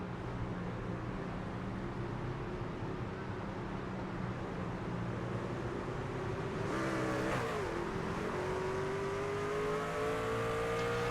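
Race truck engine in the iRacing simulator, struggling to get into gear: a steady, fairly faint engine drone with a brief rising rev and gear change midway, heard alone.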